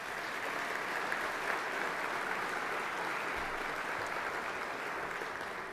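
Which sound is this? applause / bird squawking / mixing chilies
applause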